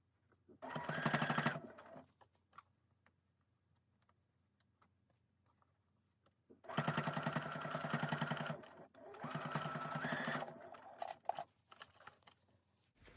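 A sewing machine stitching the sleeve placket of a dress shirt runs in bursts: one short run, a long pause, then two longer steady runs of rapid stitching, close and alone.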